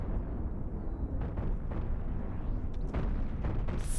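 Ship cannons in the space combat game Cosmoteer fire and explode continuously, a dense rumbling barrage of low booms and crackling blasts with occasional sharper pops layered over the din.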